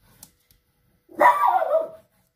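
A female dog gives a single drawn-out bark or howl-like woof lasting nearly a second, loud and clear after near silence, with no voices over it.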